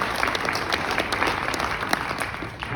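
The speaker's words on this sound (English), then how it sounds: "Please let's have a round of applause" Sustained applause from an audience at a retirement ceremony, dense and steady clapping filling the whole stretch with no pause.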